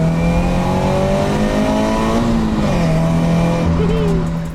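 A Toyota 86 / Subaru BRZ engine revs loud and close, its pitch climbing and falling through a couple of sweeps over a steady hum, with a voice talking over part of it.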